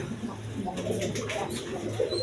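Red Gorra pigeons, a big-sized fancy breed, coo in low, steady murmurs throughout, with faint chirps and background clatter around them and no speech.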